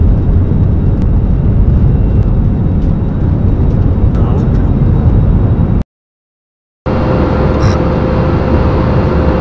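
Airliner engines roar loud and steady inside the cabin as the plane prepares for takeoff, a broadband rumble that cuts out for about a second before resuming.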